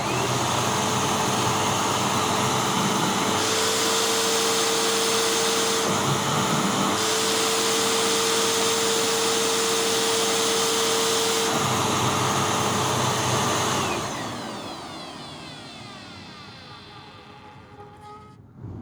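A Dirt Devil Featherlite bagless vacuum cleaner runs on carpet with a loud, steady motor roar and high whine, shifting pitch as the nozzle is pulled down, then spinning down and fading near the end.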